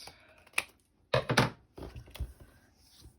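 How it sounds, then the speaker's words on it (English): Large scissors trimming the corners of paper pages for a baby album, heard as a few short, crisp snips and cutting clicks in irregular bursts, close and fairly quiet. "With my bigger scissors, I'm going to trim"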